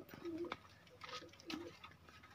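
Pigeons give a few soft, faint coos in quick short phrases, heard from a distance against quiet surroundings.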